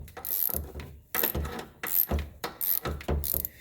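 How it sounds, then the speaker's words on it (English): A hand ratchet turning during a spark plug change on a 2016 Subaru Impreza, loud close clicking bursts repeated in rapid strokes with short pauses between them. "don't hit the camera with your nice ratchet there, Jimmy."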